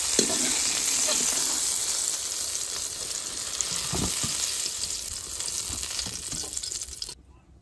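Eggplant slices seasoned with turmeric and salt fry in fish oil with a continuous crackling sizzle, close and fairly loud, before it cuts off abruptly near the end.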